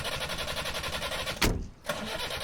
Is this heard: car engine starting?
yes